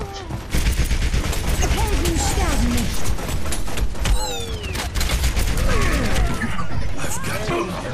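Rapid gunfire and busy combat effects in the shooter game Overwatch crackle over a dense mix of game sounds, with a voice talking over the action.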